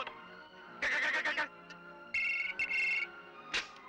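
A telephone rings in a tense scene from an Indian crime film, giving several bursts of bright electronic ringing separated by short pauses, fairly close and alone.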